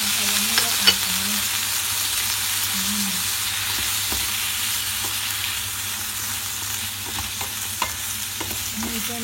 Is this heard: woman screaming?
no